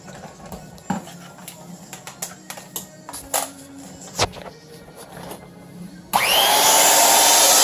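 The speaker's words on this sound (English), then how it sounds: "Now this is a little hand mixer. And we're going to plug it in" A small plug-in electric hand mixer switches on and runs with a loud, steady whine after a stretch of quiet handling noises and clicks.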